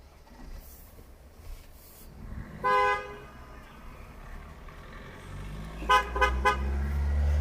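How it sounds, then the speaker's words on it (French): A car horn toots twice, a short single blast and then a quick burst of several honks, over low traffic rumble and a faint idling engine. "Vincent, ouais, je te klaxonne Vincent"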